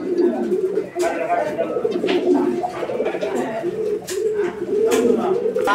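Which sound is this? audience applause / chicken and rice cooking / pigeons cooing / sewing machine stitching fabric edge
pigeons cooing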